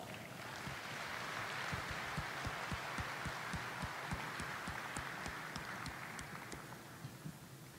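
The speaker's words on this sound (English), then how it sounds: "Another round of applause." An audience applauds at the opening ceremony of the Congress of Indonesian Diaspora in Los Angeles, a dense wash of clapping held at a steady level from a distance, with a few sharper individual claps standing out and the sound easing slightly toward the end.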